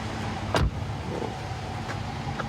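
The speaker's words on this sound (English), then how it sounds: "I'm going to close the door" A police car door shuts with a single solid thump during a traffic stop, set against a steady low hum of a running vehicle, followed by a few faint clicks.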